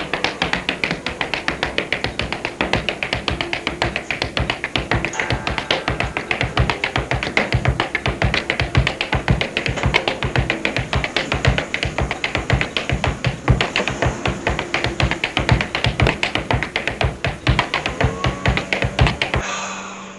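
Rhythmic hand tapping on a chair, a fast, steady patter of sharp close taps going on for about twenty seconds before stopping, with no talk over it.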